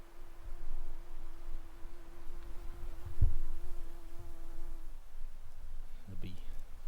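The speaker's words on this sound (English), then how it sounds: "The bee." A bee buzzes close by on a woodland walking track in the Scottish Highlands, a steady droning hum that holds for several seconds before fading. Low outdoor rumble and a brief knock sit underneath.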